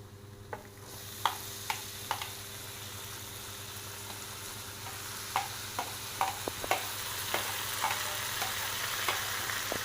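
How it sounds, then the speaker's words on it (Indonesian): Carrots and potatoes stir-frying in a pan, a soft continuous sizzle with scattered sharp clicks of a utensil against the pan, quiet and close with no talking. "Tumis hingga wortel dan kentang lunak"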